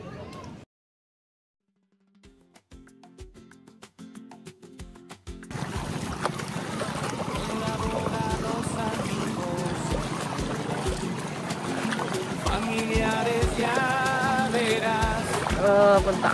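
Island-hopping boat in Siargao heard from on board, engine rumble and water splashing building from near-silence into a steady loud wash with rhythmic thumps.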